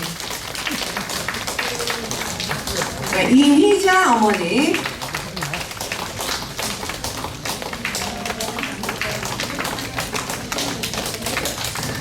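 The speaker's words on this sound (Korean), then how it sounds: "우리 박수 좀 쳐주세요, 박수" Applause from an audience of seniors at a birthday party at a senior welfare center, a steady patter of clapping running throughout while a host's voice speaks over it.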